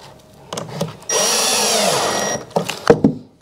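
A power screwdriver drives a screw into a wooden batten during roof vapour-barrier work, whirring steadily for over a second between a few clicks and knocks, close and loud.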